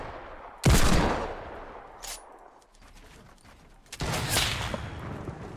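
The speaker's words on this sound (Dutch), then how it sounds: "gek hoor, schoten daar." Two loud bursts of Fortnite gunfire, one at the start and another a few seconds later, each trailing off, with a faint crack between them.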